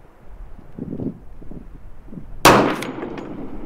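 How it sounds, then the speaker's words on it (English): A rifle fires at a 100-yard outdoor range on a windy day, one sharp close crack that rings out over low rumbling wind noise. "Oops, wind picked up right as I shot."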